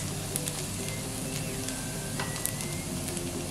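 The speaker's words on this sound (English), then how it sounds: "We'll saute it in this oil and the butter so it releases some flavor." Ingredients sauteing in oil and butter in a pan give off a steady, close crackling sizzle that runs evenly throughout, with no talking over it.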